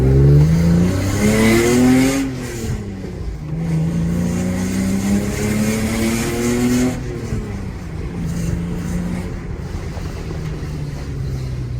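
A Lexus IS300 with a manual gearbox and unlocked ECU accelerates hard, its engine note rising steadily through the gears with brief dips at shifts, loud and close amid heavy wind buffeting.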